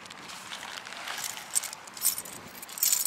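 A set of car keys jangling in bursts of bright metallic clinks, with sharper shakes toward the end and a quiet background in between.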